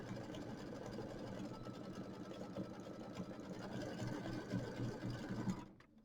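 A sewing machine works an E-stitch around a quilt block, running steadily and close by in one continuous stretch before stopping abruptly.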